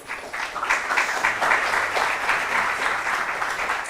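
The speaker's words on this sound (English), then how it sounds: "A round of applause for our newbies, please." Steady applause from a school quiz audience in Cape Coast, Ghana, greeting newly introduced contestants; dense, even clapping of a sizeable crowd throughout, moderately loud and without talk.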